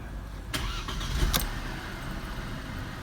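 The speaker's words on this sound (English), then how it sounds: "this is a 2-liter Mercedes-Benz petrol engine. I'm just gonna start that now." A Mercedes-Benz W204 C-Class with a 2-liter petrol engine cranks with a brief starter whir, then catches and settles into a steady low idle.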